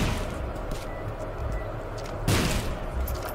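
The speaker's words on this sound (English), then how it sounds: "I'm gonna bomb them all." Bombs go off in The Binding of Isaac, with muffled thumps under a busy game mix and a sharper blast near the end, moderately loud.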